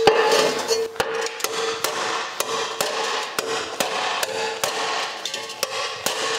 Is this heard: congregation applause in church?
no